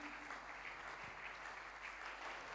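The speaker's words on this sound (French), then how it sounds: "Keep on clapping for the Lord." A church congregation clapping hands during worship, a steady wash of many hands applauding together, fairly quiet and continuous.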